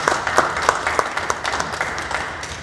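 Applause from staff at a company meeting, a modest group clapping with distinct individual claps over a few seconds, slowly thinning out.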